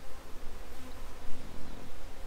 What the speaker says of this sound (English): there's some very large fat bees.